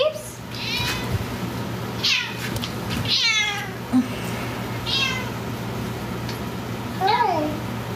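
A cat meows several times, with clear rising and falling calls spread across the stretch, close by and fairly loud, while people talk softly in the background.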